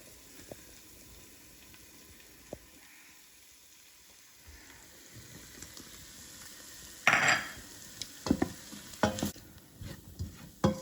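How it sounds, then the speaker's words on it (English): Flour being stirred into a New England clam chowder base in a pot, with a quiet low simmer first and then several louder scraping and clinking strokes of the spoon toward the end, with no talking. "So we're going to add this in and mix it around."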